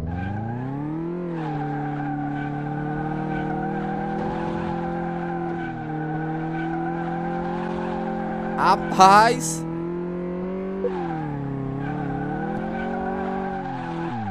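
A car drifts in Car Mechanic Simulator 2018, its engine whining at steady high revs. A short, sharp tire squeal cuts in midway while someone talks over it.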